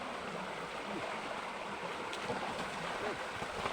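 Water flowing in a small creek, a steady close rush and babble of the stream continuing under faint background sounds.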